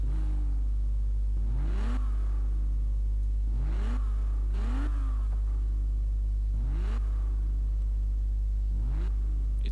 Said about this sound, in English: I would guess this is like a pretty mean Porsche 911 engine